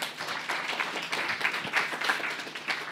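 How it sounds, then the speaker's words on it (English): An audience at a talk on the crisis in the Central African Republic claps for the speaker, a moderate, even patter of many hands from a room-sized crowd. "A warm applause for the speaker"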